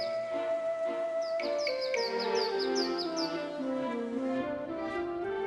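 Sparrows bathing in water give a steady run of bright, high chirps and tweets, fairly close and continuous over a soft background murmur.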